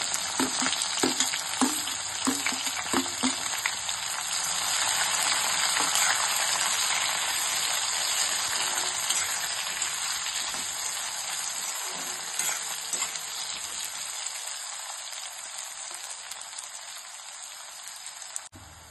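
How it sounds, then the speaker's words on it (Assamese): Onions fry in a pan with green chillies already added, a dense, steady sizzle like rain on a surface, with soft stirring scrapes early on and the crackle easing toward the end, no talk. "পিঁয়াজখিনি প্ৰথমে ফ্ৰাই কৰি ল'ম ভালদৰে"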